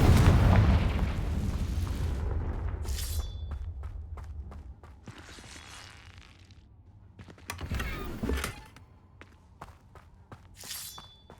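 A Confringo blasting spell in a Harry Potter video game sets off a loud booming explosion at the start that rumbles and fades over a couple of seconds, followed by scattered thuds, footsteps and brief bright game effects.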